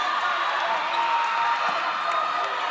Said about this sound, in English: The crowd is excited. They're almost rushing the court.